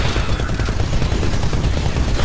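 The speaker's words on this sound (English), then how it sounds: "I'm gonna fire my rockets back with a rocket salvo." Rocket salvo from a titan in Titanfall Attrition, a dense, continuous barrage of launches and blasts that holds loud and steady the whole way through, with no talk over it.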